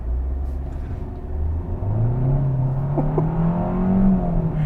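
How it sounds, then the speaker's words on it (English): A 2021 Kia K5 sedan with a 1.6 liter engine accelerates gently from inside the cabin, its low engine hum rising steadily in pitch over a few seconds under road rumble. "I'm going to do a slight acceleration test here really quick."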